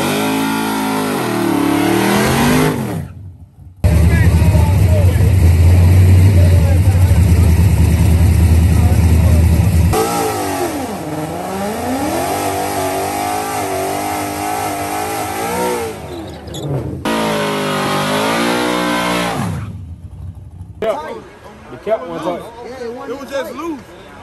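A loud car engine with headers revs hard and roars in long bursts during a burnout at a drag race, dropping away and surging again, with voices talking over parts of it.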